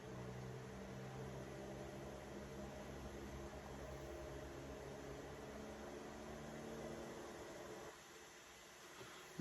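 An aircraft engine in a flight simulator throttles up for takeoff, a steady, even drone with a broad hiss that holds level and then drops off near the end.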